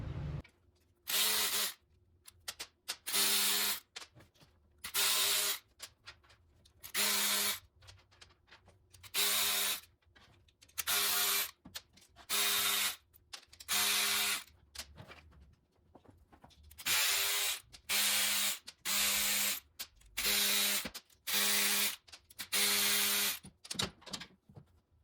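A ratchet clicks in quick repeated bursts, each stroke loud and close with short gaps between, while the oil pan comes off a Gen 3 Suzuki Hayabusa motorcycle engine.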